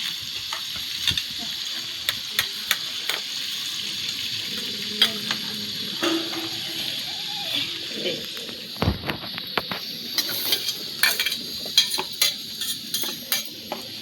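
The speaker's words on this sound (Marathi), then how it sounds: "कांदा फ्राय करून घेते." Onion fries in a pan for egg rice at a farmhouse, a steady sizzle running throughout, broken by frequent sharp clinks and scrapes of a spoon against the pan.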